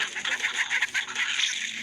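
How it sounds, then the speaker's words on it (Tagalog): A short, clucking rooster call in the video game Manok na Pula, with rapid pulsing, moderately loud and alone. "Si Manok na Talisa yan."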